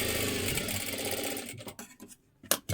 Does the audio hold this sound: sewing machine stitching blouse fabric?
yes